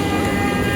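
A small children's ride train at a busy Prabhadevi jatra fair in Mumbai makes a loud, steady rumble and clatter, close by and continuous, with broad crowd noise mixed in.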